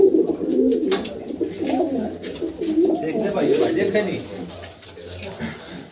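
An old male pigeon, about fifteen or sixteen years of age, coos in low repeated throaty phrases close by, while someone talks over it.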